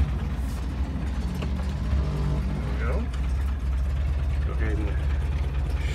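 A 1922 Essex Coach engine idles close by with a steady, loud low rumble that holds evenly throughout, no cut-off evident.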